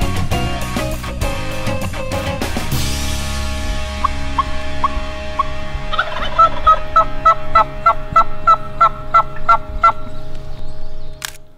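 A wild turkey gobbler during an Ontario spring hunt gobbles loudly and close, in repeated rattling bursts. A rhythmic series of calls follows it, with no talking.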